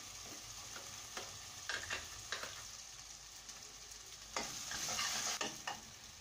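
Ground masala for a vegetarian salna is stirred and sautéed in oil, with a soft, steady sizzle and repeated scraping strokes of a spoon against the pan, fairly quiet, close and with no one speaking.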